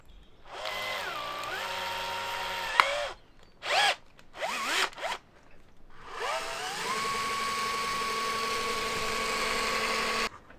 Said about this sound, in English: we're going to drill through from this side so that we can then transfer this template onto the outside